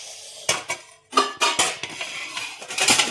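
A metal tawa griddle pan is handled in a home kitchen, giving a few sharp clanks and scrapes that come close and fairly loud, with short pauses between them.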